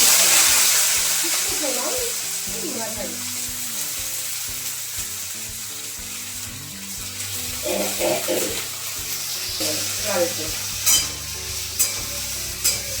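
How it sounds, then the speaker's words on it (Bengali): Onions fry in oil with cardamom, cinnamon and cloves for mutton rogan josh, a steady sizzle under intermittent stirring scrapes and clatters in a home kitchen, with a few louder knocks toward the end. "পেঁয়াজটাই লাল লাল করে ভেজে নিয়েছি"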